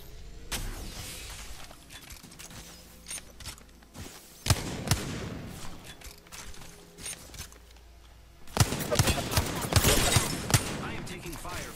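Bursts of rapid enemy gunfire in a shooter video game, spread across the clip with loud clustered volleys near the middle and a heavier sustained barrage toward the end, over a steady background of game noise.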